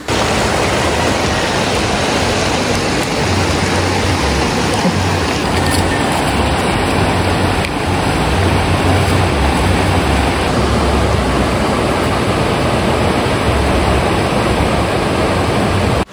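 Steady, loud rush of fast-flowing river water in Tigbaboy, Tibiao, Antique, a continuous broadband roar with no breaks or voices.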